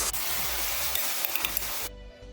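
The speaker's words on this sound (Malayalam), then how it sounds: "ഇതിലേക്ക് നമ്മൾ ഈ മസാല തേച്ച് വെച്ചിരിക്കുന്ന ചിക്കൻ ഇട്ടൊന്ന് ഇളക്കി കൊടുക്കണം" Masala-coated chicken sizzles steadily as it is stirred in a hot pan for a chicken curry, a dense frying hiss with small scrapes that cuts off abruptly near the end.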